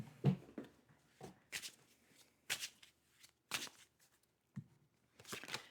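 Tarot cards being shuffled by hand in separate short riffling bursts with quiet pauses between them, close and soft, with no speech.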